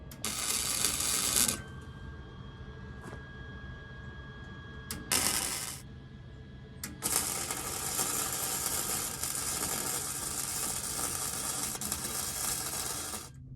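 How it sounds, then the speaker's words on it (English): A steel base for a ribbon burner forge being welded top and bottom with structural welds, heard as loud crackling, hissing bursts: a short one, a brief second one, then a long steady run of welding to the end. "So we'll weld that from the top and the bottom, go all around this base for our full-on structural welds"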